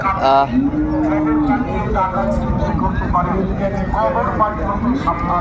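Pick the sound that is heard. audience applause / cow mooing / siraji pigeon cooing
cow mooing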